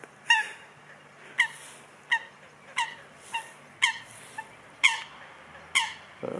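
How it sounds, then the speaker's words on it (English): A small duck in a beach forest repeats a loud, sharp honking call about once a second, and each squawk stands out clearly against a quiet outdoor background. "That was a loud sound from a small bird."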